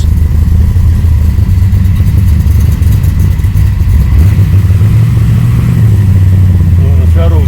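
A car with an HZ LS engine swap drives along, its loud engine droning and revving continuously throughout, with clattering and road noise mixed in.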